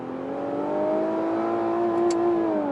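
An Infiniti Q50 Red Sport's engine holds a steady, smooth hum from inside the cabin, its pitch easing gently upward and back down in a mild rev, with no talk over it.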